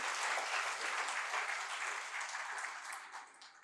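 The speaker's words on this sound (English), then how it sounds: "if we could have a big round of applause for him" A hall audience at a formal ceremony applauds a speaker, steady dense clapping near and loud that slowly tapers off toward the end.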